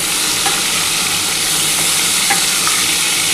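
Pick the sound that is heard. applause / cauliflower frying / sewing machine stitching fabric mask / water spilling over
cauliflower frying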